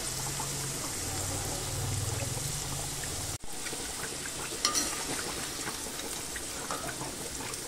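Vegetables sizzle and crackle in hot oil as they fry for fried rice, a steady broadband hiss throughout with a sharp clatter near the middle and a few brief scrapes afterward; no one speaks.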